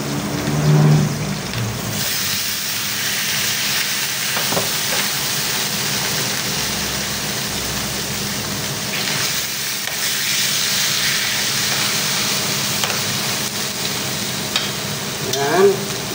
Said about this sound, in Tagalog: ngayon po ay sisimulan natin ng pag-iihaw ng ating liempo